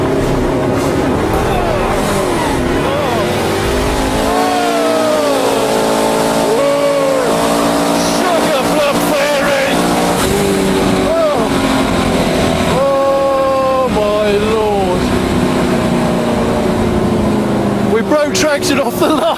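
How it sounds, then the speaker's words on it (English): The turbocharged Victor car launches hard on a drag run with its boost up, tyres spinning as the engine screams, loud and close, rising and falling through gear changes while a voice talks over it. "Broke traction off the line. But God, then it took off. That was spun the tyres a lot then."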